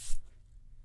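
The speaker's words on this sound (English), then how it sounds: "I also like using spray sunscreens for my kids." A single short hissing burst of spray sunscreen, close and brief, followed by quiet room tone with no talking.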